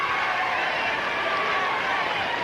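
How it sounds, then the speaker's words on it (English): Tennis crowd at the 1998 Lipton Championships final between Andre Agassi and Marcelo Rios, a continuous loud roar of cheering and applause from a packed stadium, steady throughout with no pauses. "the crowd has not been quiet since we went away"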